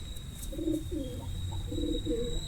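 A pigeon of the sabjar ekdar breed, kept in the Dharwad area, gives a run of soft, low, repeated coos close by over a steady background hum and faint room noise.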